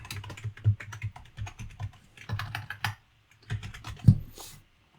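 Quick bursts of keystrokes tap out text on a computer keyboard, close and fairly quiet, with short pauses between runs of typing and no voices.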